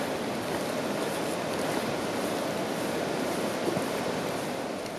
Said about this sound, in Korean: 110m 높이에서 떨어지는 시피소피소 폭포입니다